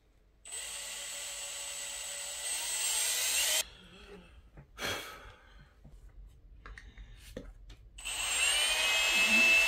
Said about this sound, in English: You need a 3/16 drill bit here. Just drill.